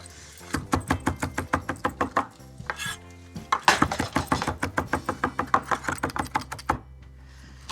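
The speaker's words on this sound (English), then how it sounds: "Just gonna run my knife through my toppings. The mint and cilantro." A knife chops through a pile of fresh mint and cilantro on a cutting board, a quick steady run of close, crisp taps in two rapid bursts split by a brief pause.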